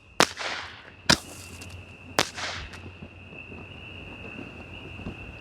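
Roman candle firework fires a few sharp pops outdoors, three distinct bangs with short fizzing tails spaced about a second apart, then a steady hiss and faint crackle with light wind noise.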